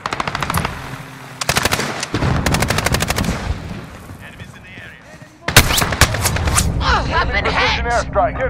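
AK47 automatic gunfire in Call of Duty: Modern Warfare, loud rapid bursts separated by short pauses, with later bursts mixed with other game effects and faint voice-like sounds.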